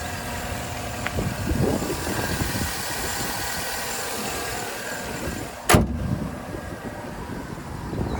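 A 2012 GMC Sierra 1500 pickup's 4.8-liter V8 engine idles steadily with a low, even rumble, interrupted by a single sharp clack partway through.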